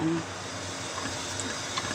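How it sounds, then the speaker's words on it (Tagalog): Water is poured into a pot for pressure cooking pork tenderloin in soy and cream, giving a steady close hiss and gush that lasts throughout, with a brief voice at the very start. "pwede na natin tubigan ng konti"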